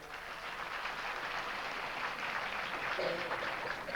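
An audience claps at a stage function, producing a dense, steady wash of applause that stays fairly loud for the full four seconds without any clear pause.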